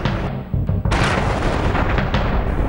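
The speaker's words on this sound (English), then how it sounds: "thuds of explosion." Explosions in war-torn Mosul, Iraq, a loud, continuous roaring blast with heavy booming that fills the whole stretch, with no voices.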